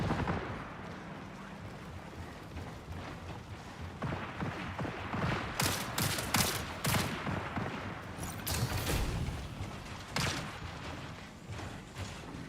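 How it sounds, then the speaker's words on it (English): Gunfire in the video game Marathon: bursts of shots crackle through the middle and latter part, several sharp volleys over a steady background of game ambience, moderately loud, with no one talking. "What are they shooting at?"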